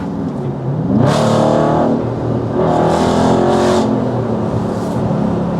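A Dodge Charger Hellcat Widebody engine with a muffler delete revving in loud bursts with a raspy, throaty exhaust note, rising and falling several times close by with no talking.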